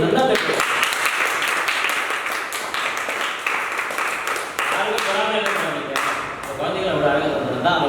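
Hand clapping taps out a rhythm of sharp, close claps spread through the stretch, mixed with a speaking voice.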